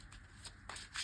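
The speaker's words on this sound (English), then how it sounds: "So again, we'll give it another shuffle." A deck of Yu-Gi-Oh trading cards shuffled by hand in a few quick, soft riffling bursts, faint and close, with no talking over it.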